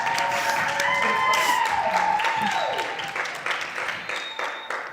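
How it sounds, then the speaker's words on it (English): Audience applause for panelists at a community forum on gangs, guns and youth, a dense wash of clapping that holds steady and then slowly tapers off, with some tonal sounds over it. "let's give our panelists a big round of applause"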